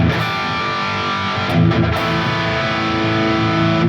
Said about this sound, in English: it's a very thick sounding guitar tone